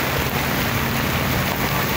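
Heavy rain pours down over Manila Bay, a dense, steady hiss that fills the whole stretch evenly and fairly loudly, with no voices.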